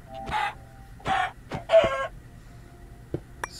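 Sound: chicken clucking in the video game Minecraft

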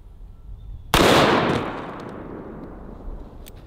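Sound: gunshot with bullet impacting homemade body armor

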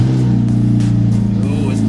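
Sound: Honda K20 swapped car engine cold start, no exhaust

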